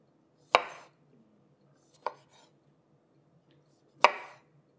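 A kitchen knife halves small grape tomatoes on a cutting board, giving three crisp, separate chops spaced about a second and a half apart, close and fairly loud against a quiet room.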